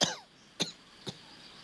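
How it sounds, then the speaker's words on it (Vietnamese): A person, a heavy smoker, coughs hard three times in a row, a loud first burst followed by two shorter harsh coughs, close and alone without talk. "Ho muốn bể phổi vậy đó."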